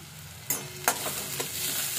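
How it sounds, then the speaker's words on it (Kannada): Sprouted legumes frying in a pan with salt, a steady loud sizzle broken by a few sharp scrapes and clinks of stirring, close and without talk. "ಒಂದು ಸ್ವಲ್ಪ ಚೆನ್ನಾಗಿ ಫ್ರೈ ಮಾಡ್ಕೊಳ್ಳೋಣ"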